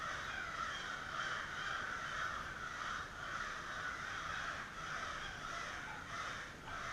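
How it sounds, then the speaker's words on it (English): Crows caw repeatedly outdoors, a steady chorus of harsh calls at moderate distance that keeps going throughout, with no voices over them. "Got some angry birds outside."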